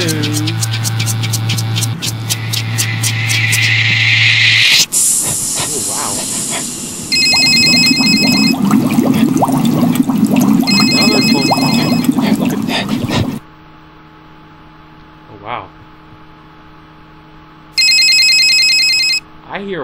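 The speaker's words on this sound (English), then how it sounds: "I hear a phone call." A telephone rings inside the video game Bad Milk, with repeated electronic trills in short bursts over a busy, layered game soundtrack that cuts in and out.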